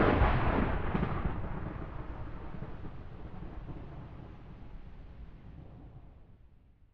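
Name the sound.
thunderstorm rumbling in the background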